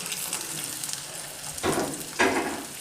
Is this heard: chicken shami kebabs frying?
yes